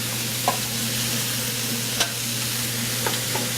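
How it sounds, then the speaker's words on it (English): Onions with red and green peppers cook in a pan for chocolate-tequila chili, a steady hissing sizzle over a low hum, broken by a few soft stirring knocks, close and unvoiced. "we're just going to mix that up right now. Sweat out those onions a little bit."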